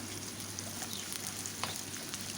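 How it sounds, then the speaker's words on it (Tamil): Chopped onions fry in oil until brown for restaurant-style paneer butter masala, with a steady close sizzle, some stirring scrapes and brief pops. "இந்த வெங்காயத்தை சின்னதாக கட் பண்ணிவிட்டு இதை நல்லா ப்ரௌன் ஆகிற வரைக்கும் நம்ம வதக்கி எடுக்கலாம்"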